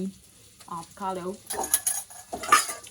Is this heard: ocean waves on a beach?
no